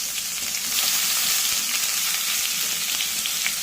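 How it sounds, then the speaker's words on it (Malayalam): Sliced onion sautéing in oil in a pan for chicken curry, a loud, dense, continuous sizzle heard up close and alone, with faint stirring underneath. "സവാള നന്നായി വഴന്നു വരുമ്പോൾ"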